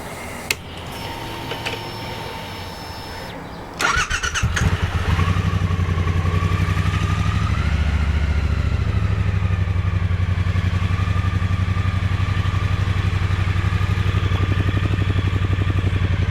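A motorcycle engine starts with a sharp clatter after a few seconds, then idles steadily and loudly with a constant mechanical rumble.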